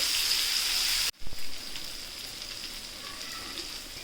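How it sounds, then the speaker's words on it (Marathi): Bangda (mackerel) fish sizzling steadily in a pan over low heat, a soft continuous crackle that briefly cuts out and resumes, no talking. "दुसरी साईडसुद्धा एकदम कुरकुरीत होईपर्यंत फ्राय करून घेऊयात"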